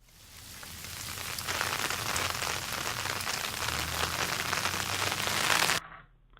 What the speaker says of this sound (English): Here's rain.